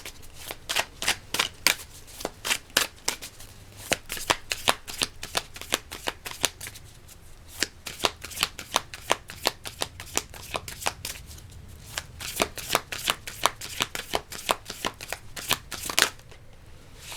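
Tarot cards being shuffled by hand, a long run of quick riffling flicks and soft card slaps in rapid bursts, close and clear, with no talking.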